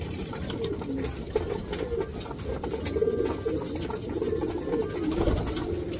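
Racing pigeons pecking at a seed mix, a steady close-up patter of many beaks tapping and scraping, with soft cooing mixed in.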